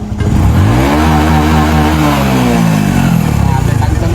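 A motorcycle engine revs loudly and steadily, its pitch climbing then easing back across a few seconds of continuous throttle, with no pause between pulls.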